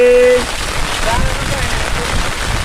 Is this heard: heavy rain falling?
yes